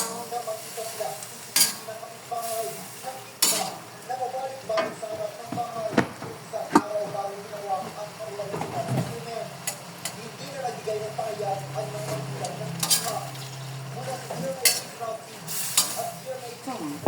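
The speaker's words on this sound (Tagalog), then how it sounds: "Magluto tayo ng sitaw." Adobong sitaw, string beans with meat, cooking in a pan: soft sizzling with stirring scrapes and occasional clinks of a utensil against the pan, while people talk.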